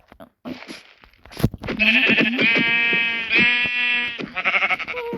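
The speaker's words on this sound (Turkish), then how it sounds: "Koyun." Sheep bleating repeatedly at close range, a string of loud wavering cries carrying on almost without break, with a brief voice near the start.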